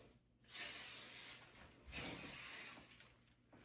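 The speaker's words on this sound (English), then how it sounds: "Maybe I'll just do a little misty mist." Finishing protective hairspray sprayed from a can in two long, close hissing bursts of about a second each, separated by a short pause, with the start of a third burst at the end.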